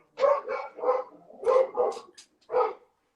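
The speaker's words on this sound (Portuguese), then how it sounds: "Os cachorros estão latindo." Dogs bark in a short run of six sharp, mid-pitched barks with brief gaps, close and clear with no talking over them.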